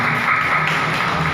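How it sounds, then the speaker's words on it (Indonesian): An audience applauds at a Golkar party political education event, honouring a re-elected council commission chair with loud, steady, dense clapping throughout. "Tepuk tangan untuk beliau."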